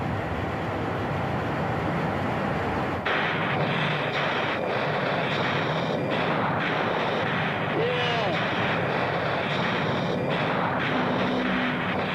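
An A-6 Intruder jet roars in flight toward its target, a loud sustained rumble that swells after a few seconds, layered with dramatic music and effects.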